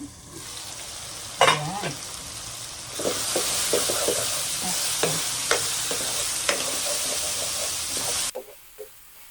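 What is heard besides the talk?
ground pork frying in a covered pan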